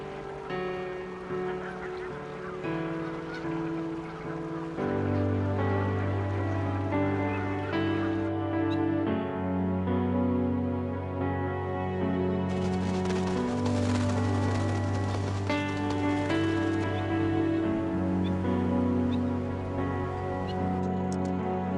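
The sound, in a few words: birds bathing in water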